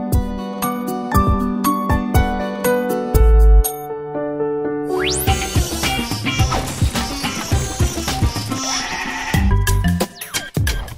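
Ewes bleating on a sheep farm in the Pyrenees, loud and close, with ringing, jingling bells mixed into a busy, overlapping sound that continues throughout.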